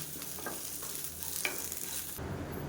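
Shallots and curry leaves fry in a pan for a Tamil neem-flower thovayal, giving a soft, close sizzle with light stirring clatter that shifts abruptly near the end.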